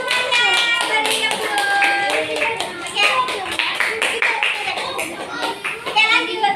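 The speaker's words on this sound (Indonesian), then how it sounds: "Oke, tepuk tangan untuk semuanya." Children in a primary school classroom clap together in a dense burst of hand claps, with young voices and chatter mixed in throughout.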